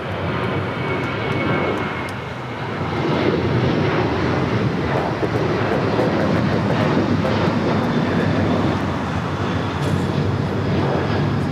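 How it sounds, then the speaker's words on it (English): A Boeing 787-9 Dreamliner on arrival at LAX after a flight from Chicago O'Hare roars steadily and loudly for the whole stretch, a broad engine rumble that swells slightly after the first few seconds, with no talk. "787-9 Dreamliner."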